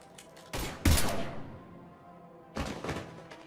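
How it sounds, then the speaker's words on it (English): Gunfire in the video game Mass Effect 3: two short bursts of shots, the second heavier with a deep thump, then a pause before another pair of sharp reports, fairly close with no talk. "Now open fire!"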